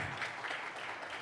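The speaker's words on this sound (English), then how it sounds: "well-deserved applause" Steady applause from a crowd, a soft continuous patter of clapping with no voices over it.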